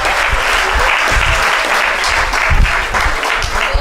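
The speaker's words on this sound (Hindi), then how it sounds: "तो थोड़ी तालियां बजा दीजिए एक बार" Audience applause at an All India Kavi Sammelan poetry recital in 2022, a dense, steady clapping from a large crowd that fills the whole stretch with no voice over it.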